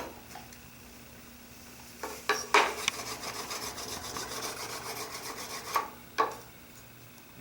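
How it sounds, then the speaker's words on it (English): A steel chisel is rubbed back and forth on a sharpening stone to form a secondary bevel. The rasping strokes run steadily and close, with a few sharper scrapes standing out. "you can see the secondary bevel that I've put on the chisel with the stone here."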